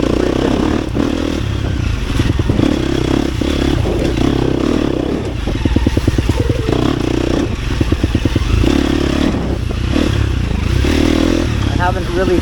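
A 250cc four-stroke dirt bike runs close by, its engine rising and falling with rhythmic, chattering pulses and mechanical clatter while a person talks over it throughout.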